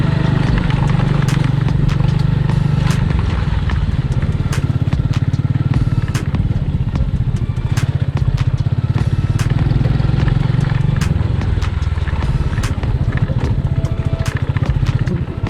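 Motorcycle ridden off-road along a rough hillside footpath on the way to a mountain cave temple, its engine droning steadily up close throughout with rattling clatter and sharp knocks from the uneven ground.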